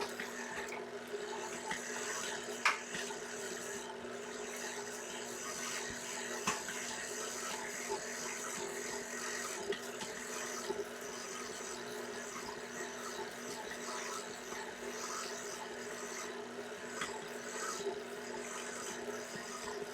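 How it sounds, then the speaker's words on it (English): A kettle of water comes to the boil, giving a faint, steady rattling hiss that continues evenly with no voices. "let's get another kettle of water boiling."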